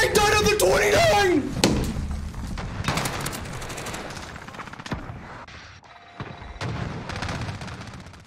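Rapid AK-47 gunfire in the Modern Warfare video game, dense loud bursts and heavy impacts over a busy, noisy game mix, with a player's voice talking over the shooting throughout.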